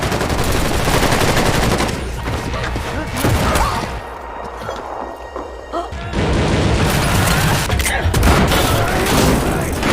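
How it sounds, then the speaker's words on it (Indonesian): Rapid bursts of gunfire and loud booms crackle through a dense, chaotic film shootout mix, with a brief lull midway before the shooting resumes at full intensity. "baku tembak pun terjadi antara Vincent CS dan kelompok triad"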